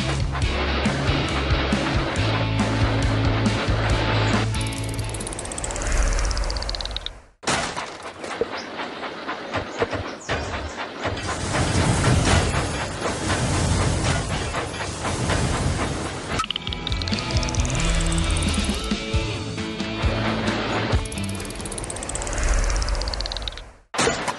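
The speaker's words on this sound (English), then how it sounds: "Clear the tracks! Engine coming!" Video game train engines from Thomas and Friends Minis running on tracks, with steady loud rumbling, clacking and hissing, sweeping whistle-like tones and a brief drop in sound partway through, no talking.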